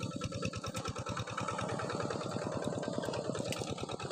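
A farm tractor engine runs steadily in a planting field, with a fast, even chugging pulse that stays loud and close the whole time and no talk over it.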